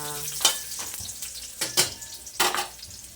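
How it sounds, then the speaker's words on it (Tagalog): Okra sautés in a pan for adobong kangkong, a soft continuous sizzle broken by three sharp bursts of stirring or tossing, close and clear. "ilagay natin ang ating okra. Igisa muna natin una ang okra."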